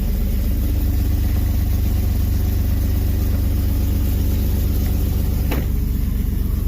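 The engine of a lowered 2003 Chevy Silverado SS AWD pickup, fitted with mufflers, idles steadily with a deep, loud, even rumble for the whole stretch. One faint click is heard partway through.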